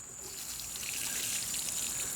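Water pours steadily onto tomato plants in a garden, a continuous close trickle and splash that holds at an even level for a couple of seconds with no talk.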